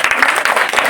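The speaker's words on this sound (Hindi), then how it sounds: "जोरदार तालियों से स्वागत कीजिए" A brief burst of audience applause at a school science exhibition, dense and steady hand clapping from a crowd heard up close.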